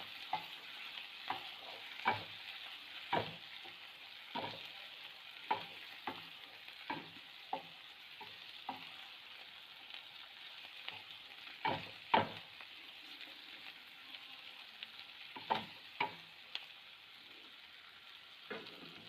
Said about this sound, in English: I'm going to mix along with the onion and the chili